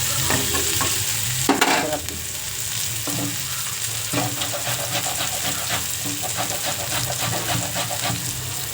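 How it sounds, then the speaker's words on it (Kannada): Oggarane (tempering) sizzles steadily in a hot pan while a spoon scrapes and stirs it, with several louder knocks of the utensil against the pan. It is heard close up for the whole stretch, with no talking, while avarekalu beans palya is cooked. "ನೋಡಿದ್ರಲ್ಲ ಫ್ರೆಂಡ್ಸ್ ಒಗ್ಗರಣೆ ಬೇಯಿತು"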